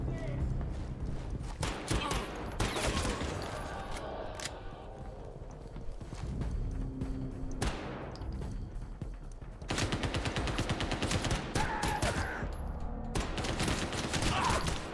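Pistol gunfire in the CrossfireX video game on Xbox Series S, with repeated loud, close shots and bursts scattered through the clip, plus other battle sounds and footsteps, while someone talks intermittently over the action.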